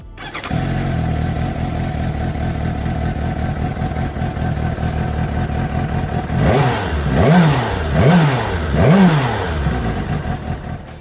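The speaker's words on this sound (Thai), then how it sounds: "เสียงเครื่องยนต์นุ่มมาก" A Suzuki GSX-S750 motorcycle engine idles steadily, then revs three times in quick succession, each rise and fall of pitch loud and close.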